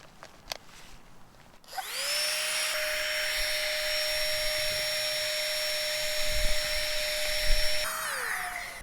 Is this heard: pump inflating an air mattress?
yes